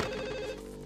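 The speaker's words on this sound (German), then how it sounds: "Ein Telefon klingelt?" A telephone rings once in Max Payne 2, a clear electronic bell tone that holds briefly and then fades out, heard alone.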